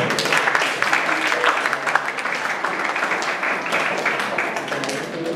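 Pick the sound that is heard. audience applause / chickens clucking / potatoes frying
audience applause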